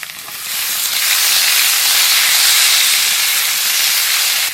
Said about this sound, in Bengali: এখানে টমেটো দিয়ে দেবো।